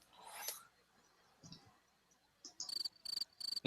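A quick burst of cricket chirps, rapid rhythmic pulses near the end after a few soft scattered noises, fairly quiet overall.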